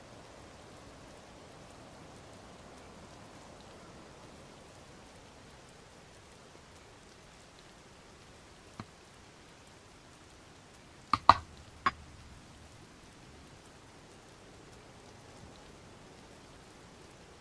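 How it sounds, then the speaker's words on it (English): Rain falls in Zelda: Tears of the Kingdom as a soft, steady hiss of drops, faint and constant, with a few sharp clicks and taps near the middle. "I need this rain to stop so I can freaking climb this stupid mountain."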